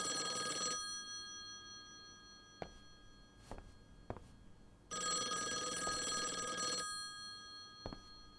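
An old-style telephone bell rings in two long metallic bursts with a pause between them, bright and fairly close, with a few faint knocks and footsteps in the quiet room.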